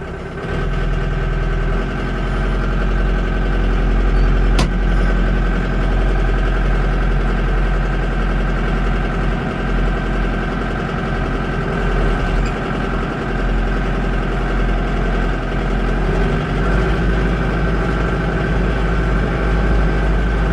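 Tractor engine idling steadily nearby with a deep, constant low rumble and faint vibration, unchanging throughout with no voices.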